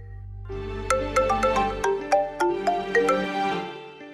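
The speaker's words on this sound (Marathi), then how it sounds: "फोन वाजतोय तुमचा" A mobile phone ringtone plays a bright electronic melody of rapid, evenly spaced notes, close and clear for a few seconds after a low hum stops, with no talk.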